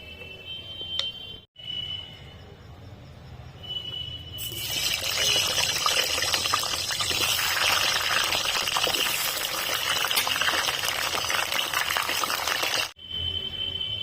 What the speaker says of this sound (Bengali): প্রথমে সর্ষের তেলে আলুগুলোকে লাল লাল করে ভেজে নেব।